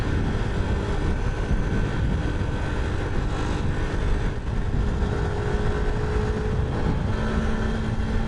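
Continuous engine drone and wind rush from a motorcycle being ridden, steady and loud throughout with a faint rising tone near the end, no talking.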